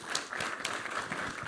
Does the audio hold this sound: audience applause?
yes